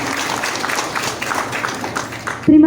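Attendees at the opening of a national organization meeting applaud in a brief, dense crowd clap that cuts off as a voice begins speaking at the end.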